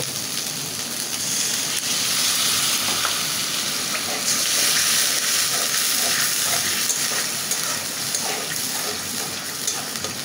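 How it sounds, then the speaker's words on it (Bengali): Ginger and garlic frying in a pan for a spinach and snakehead fish curry, a loud, steady sizzle and hiss with occasional stirring scrapes, close up and continuous. "আদা রসুনটা কিন্তু আমি সুন্দর করে ভাজা ভাজা করে নিচ্ছি"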